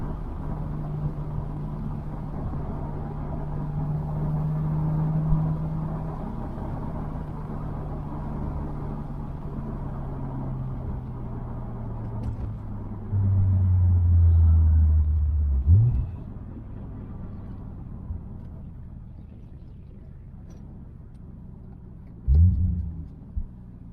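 Lexus GS300 with a 2JZGTE engine and R154 gearbox pulling on a morning drive, a steady low engine drone rising in pitch through the gears, with a brief louder burst near the end.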